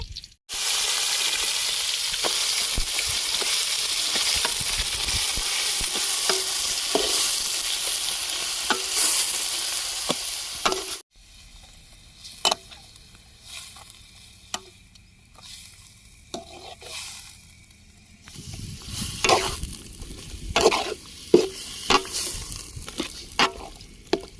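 Cleaned boti (tripe) tipped into a pan with onions, frying with a loud, steady sizzle that drops off abruptly, followed by quieter stirring clatter and scraping and a renewed sizzle near the end.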